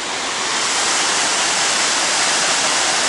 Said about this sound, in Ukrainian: цей водоспад буквально трішки більший водоспаду в Софіївці, в Умані